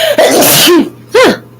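A loud, close sneeze with a sharp intake and explosive burst, followed by a second quick vocal sound, in an otherwise quiet room.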